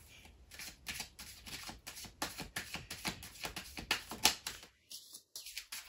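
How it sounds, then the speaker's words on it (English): Tarot cards are shuffled by hand in quick crisp riffles and flicks, a dense rapid run of papery snaps close up that breaks off briefly near the end. "Right, I've given them a good shuffle"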